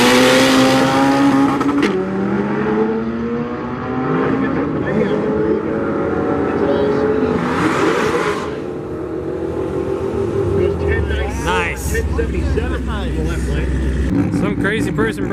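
A modified K20 engine, around 600 horsepower, runs in a car at a race-week gathering, a throaty idle and revs under steady nearby conversation, with a deeper rumble building toward the end.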